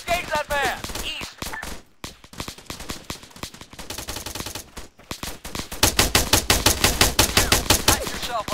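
Soldiers in ArmA 3 trading fire with a machine gunner: bursts of sharp gunshots, a brief lull, then rapid, evenly spaced automatic fire growing louder toward the end, with shouted commands among the shots.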